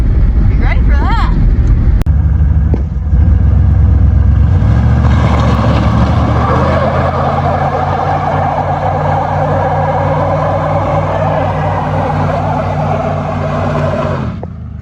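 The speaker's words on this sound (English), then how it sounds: "we'll stop up here and give you a little burnout" A 1987 Ford Thunderbird roars through a burnout, its engine revving hard and holding a loud sustained growl with tire noise, close up, while a voice is heard over it at the start.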